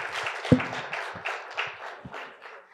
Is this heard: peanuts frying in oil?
no